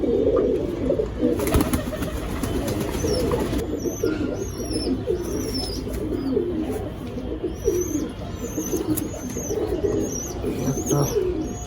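Pigeons coo repeatedly at a pigeon trading market, soft rolling calls over a dense bed of crowd murmur and bird chatter, with sharper chirps scattered throughout.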